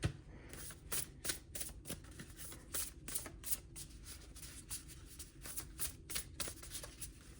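A deck of tarot cards is shuffled by hand, a rapid series of crisp riffling bursts and soft slaps in an uneven rhythm, close up and clear with no talking.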